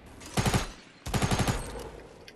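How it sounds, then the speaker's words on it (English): Enemy gunfire in a first-person shooter video game: two rapid bursts of automatic shots, each a tight cluster of loud cracks, separated by a short gap, with no talk over them. "down in the center of this room, he's shooting at me"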